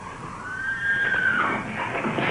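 A horse whinnies in a stable, one drawn-out neigh that rises and then trails off, heard fairly close against a steady background hiss.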